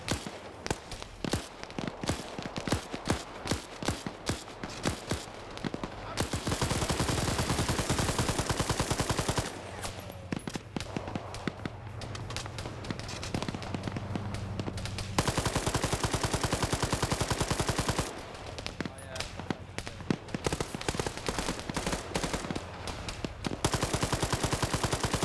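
Machine gun fire in a video game, loud and sustained, with long rattling automatic bursts alternating with stretches of rapid single clicks and shots, continuing steadily and without voices.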